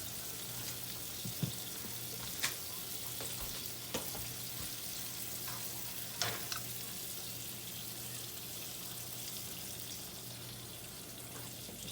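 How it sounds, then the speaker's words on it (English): Steak sizzling in olive oil in a pan, a quiet steady crackle with occasional sharper pops and a low hum underneath, close and without talk. "we're gonna let these fry up a few minutes on each side"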